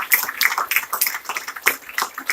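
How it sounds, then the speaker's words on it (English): An audience at a 2018 hackathon event claps, with scattered, fairly close hand claps rippling in an uneven, thin patter rather than a full roaring ovation. "Big round of applause to Ramya"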